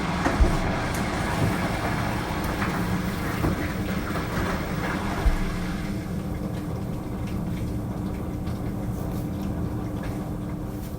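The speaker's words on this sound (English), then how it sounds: "That was the sound of a washing machine." Washing machine running, a steady low rumbling churn with faint rattling clicks and a couple of soft knocks, continuous at moderate distance and without talk.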